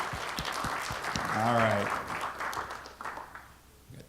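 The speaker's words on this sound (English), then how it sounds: "Round of applause, please." An audience at a healthcare facilities hackathon gives a round of applause, a broad wash of clapping under a voice speaking briefly, fading gradually toward the end.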